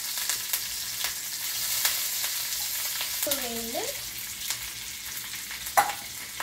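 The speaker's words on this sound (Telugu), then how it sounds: "1 స్పూన్ నెయ్యి వేసి దద్దోజనానికి మినపప్పు, ఆవాలు, అల్లం ముక్కలు, పచ్చిమిరపకాయలు, కరివేపాకు వేసి వేయించండి" Urad dal, mustard seeds, ginger pieces, green chillies and curry leaves crackle and sizzle in a spoon of hot ghee, a close, steady frying hiss with small pops, briefly under a spoken word.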